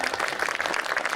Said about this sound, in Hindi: सभी भक्त जोरदार तालियां।